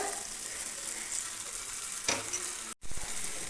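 Tomato masala with half a teaspoon of turmeric powder frying for fish curry, a steady close sizzle with a brief stir and a short clatter near the end.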